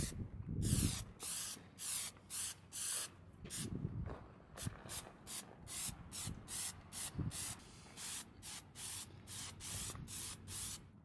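Repeated short bursts of aerosol spray paint applying a light dust coat to a 2019 Ram bumper bash plate, close up and steady, with brief pauses between passes and no talking.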